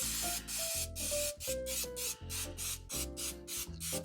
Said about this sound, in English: using this vegetable spray is going to be a lot faster than using the can of butter.